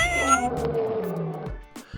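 A cat meows loudly and close up in one drawn-out, wavering call that ends in a short tail, with no other sound around it.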